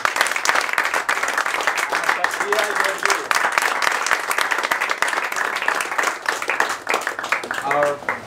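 A theater audience at a full stage show applauds the dancers, with loud, sustained clapping. Cheers and voices are mixed in throughout.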